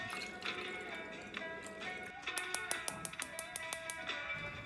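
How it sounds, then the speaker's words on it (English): Sauce poured into a pan for a Jewish Egyptian chicken dish gives a soft, close liquid splash and trickle, turning into a run of quick, distinct drips toward the end. "Pour the sauce into a pan."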